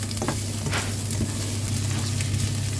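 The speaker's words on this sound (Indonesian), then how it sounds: "Kita tumis sampai baunya harum." Spice paste sautéing in oil in a Teflon pan, a continuous dense sizzle with a low steady hum and occasional soft stirring scrapes, close and even throughout.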